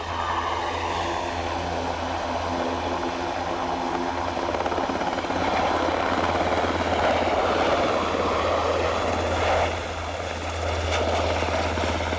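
A helicopter flies over Aberdeen airport, its broadband rotor and engine roar loud and steady throughout with only slight swells, no voices.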